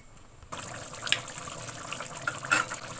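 Hot water pours into a pot of chicken curry with a soft splashing gush, a couple of brighter splashes standing out, nearby and without talk.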